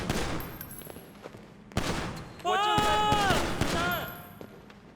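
Game gunfire from non-player characters at an Ammu-Nation shooting range in GTA 5: sharp broadband shot transients scattered throughout, over a busy game soundscape with whistling tonal effects in the middle.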